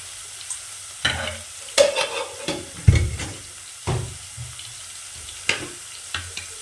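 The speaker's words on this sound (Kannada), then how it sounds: "ಸ್ವಲ್ಪ ಈರುಳ್ಳಿನ ಫ್ರೈ ಮಾಡಬೇಕು" Onions fry in a pan under a soft, low sizzle while a spatula scrapes and knocks against the metal in irregular, fairly loud strokes, with no one speaking.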